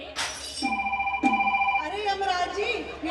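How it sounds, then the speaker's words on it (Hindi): A telephone rings with repeated electronic trilling tones, sounding twice with a pause between, followed by a brief vocal sound over it, during a stage performance at a Jain religious festival. "हाँ, ब्रह्मा जी को फोन लगाओ"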